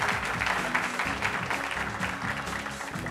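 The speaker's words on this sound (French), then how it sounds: "On les applaudit très fort" Studio audience applause on a French-language midday TV show, with dense clapping layered over a thumping musical backing throughout.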